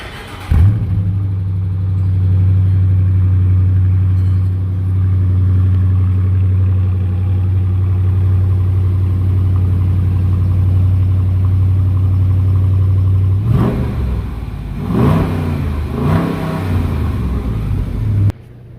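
A 2018 Dodge Charger R/T with its 5.7-liter Hemi V8 fires up close by and settles into a steady, loud idle, then a few quick revs rise and fall near the end.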